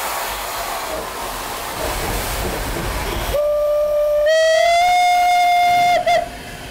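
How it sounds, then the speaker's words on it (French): Steam locomotive blows a long, loud whistle that rises slightly in pitch and holds steady, following a stretch of hissing steam, then cuts off abruptly with a brief second toot. "le traditionnel sifflet, qui est un bon élément"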